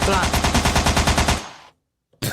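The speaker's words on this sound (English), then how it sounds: "Can we get some gunshots, please?" Rapid automatic gunfire sound effect played on a podcast: a loud burst of about a dozen evenly spaced shots that cuts off abruptly into silence, followed by a short burst of noise at the very end.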